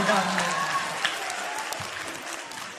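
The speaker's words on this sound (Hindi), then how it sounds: "जोरदार तालियां" Loud, dense audience applause at a Republic Day poetry recital, sustained across the whole stretch with a few voices mixed in near the start.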